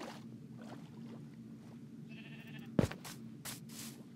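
A Minecraft sheep gives one short, faint bleat over a quiet game background, followed by a few sharp clicks and knocks.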